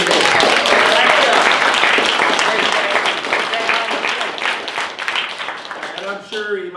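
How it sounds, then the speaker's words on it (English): Audience applause for a guest speaker at a moonshine history talk, loud dense clapping from a room crowd that gradually thins and fades, with some voices and cheers mixed in near the end. "Let's give him a good applause."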